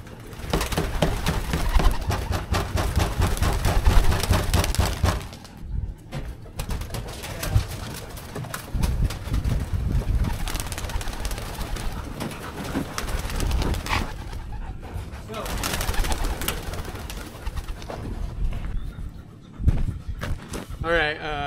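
Pigeons cooing inside a loft: steady, close, overlapping throaty coos mixed with shuffling and fluttering noise that continues throughout, with no pauses.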